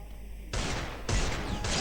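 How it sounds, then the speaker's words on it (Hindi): Desert Eagle pistol fired in Free Fire: three loud, heavy single shots spaced about half a second apart, each with a short ringing tail, with no voices. "मैं डेजर्ट ईगल से वन शॉट मारूंगा"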